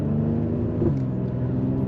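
A heavy Mercedes-AMG car accelerates with a close, loud, rising engine drone and throaty rumble, continuous throughout with no talk over it.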